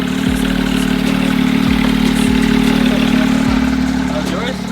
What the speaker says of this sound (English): Damn, the car sounds nice.